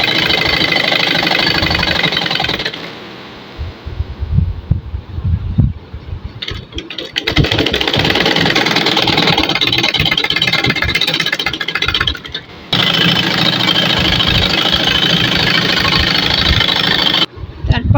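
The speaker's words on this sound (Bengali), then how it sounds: "সেলাই করে নেব।" A sewing machine stitching the seams of a kaftan dress, a loud steady mechanical whir running in long bursts with short pauses between stitching runs.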